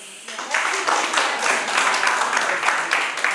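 An audience at a youth hall presentation applauds, a dense, steady wash of clapping that starts after a brief quieter moment and carries on evenly at moderate loudness.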